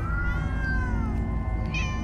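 Several cats meow in the Minecraft Story Mode video game, with a long drawn-out meow followed by a short higher one, loud and close over a steady droning game background, with no talking.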